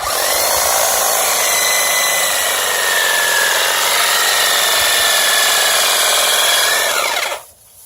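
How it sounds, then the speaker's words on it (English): A lightweight one-handed electric hedge trimmer cutting back dead perennials and ornamental grass during a spring garden cleanup, a loud, steady buzzing whine held close for several seconds before the motor cuts off abruptly at the end. "the hedge trimmer is the best way to get them done"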